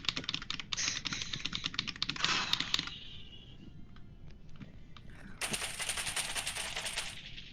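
Rapid, loud clattering of keystrokes on an old computer keyboard, in dense bursts with a short lull midway, then another fast run of typing; no talking.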